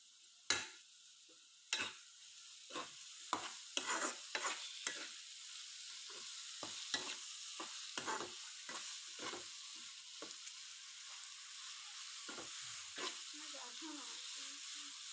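Chopped tomatoes go into a pan while fish is cooked at home, bringing a quiet hiss and a string of irregular clinks and scrapes from a spoon or pan against metal.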